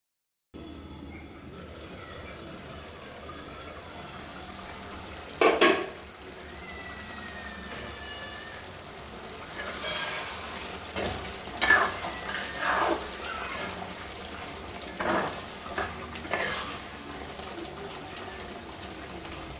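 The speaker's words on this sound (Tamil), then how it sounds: "அரை கிளாஸ் தண்ணி விட்டுட்டு நல்லா கலக்கிட்டு" Chicken liver gravy is stirred in a pan after half a glass of water is added, with intermittent spoon scrapes and clatters over a soft, continuous simmering hiss.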